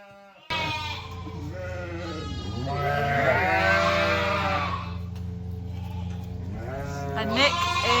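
Ewes bleat repeatedly on a farm, several overlapping wavering calls close by, over a low steady engine hum that runs throughout.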